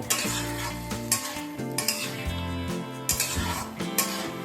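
Vegetables frying in a pan as water is poured in, a steady close sizzle with clinks and scrapes of stirring over soft melodic music, no talking.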